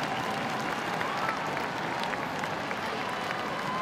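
A large arena crowd applauds a figure skating free program at the Winter Universiade 2017, with continuous dense clapping and cheering at steady volume throughout.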